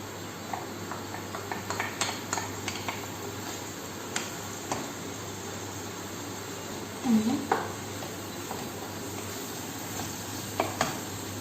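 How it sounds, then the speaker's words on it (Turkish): Onions sautéing in a pan, a steady sizzle with occasional scrapes and stirs of a utensil against the pan and a faint clink, close by and with no talking. "Soğanını güzel kavuralım."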